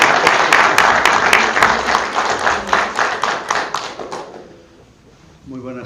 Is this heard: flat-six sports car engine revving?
no